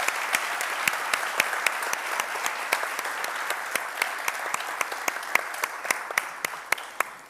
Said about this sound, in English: A big applause for our